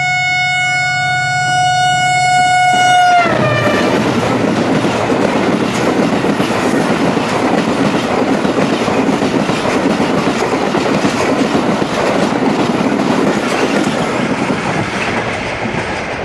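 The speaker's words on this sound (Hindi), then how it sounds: "105-106 किलोमीटर पर गुज़र गई। ये थी हज़ारा एक्सप्रेस" Hazara Express passenger train passing Jung Shahi station at about 105 km/h: a loud, sustained multi-tone horn blast, then a close, roaring rush of carriages and rattling wheels that lasts to the end.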